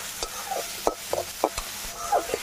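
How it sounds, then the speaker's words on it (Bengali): Onion, ginger, garlic and tomato fry in a pan with a soft, steady sizzle, broken by a few sharp scraping stirs from a spatula, close and fairly quiet. "পেঁয়াজ, আদা, রসুন, টমেটো ভালো করে ভেজে নিয়েছি।"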